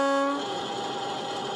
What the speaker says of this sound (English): function 13 is the short low tone horn